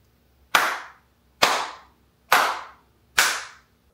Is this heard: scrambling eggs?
no